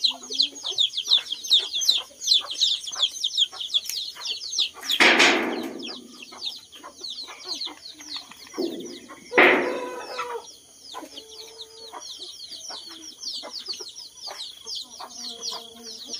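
Several backyard chickens cluck steadily at close range, joined by two louder, drawn-out calls near the middle, all over a constant high insect-like background drone.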